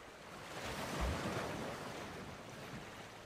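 Sea waves wash along the calm, clear waters of the Arrábida coast at low tide: a steady, broad rush of surf with a gentle swell near the start, mixed with light wind noise.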